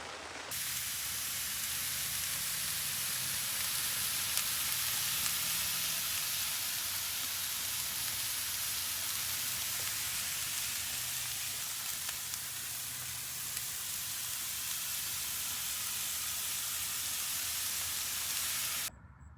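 Food sizzles and hisses steadily in a pan while cooking inside a camper van, a continuous close frying sound with faint stirring and no voices over it.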